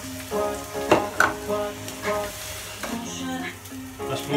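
Rice frying in a pan for a zucchini and seafood risotto sizzles up close, stirred in uneven scraping bursts. A voice speaks faintly underneath.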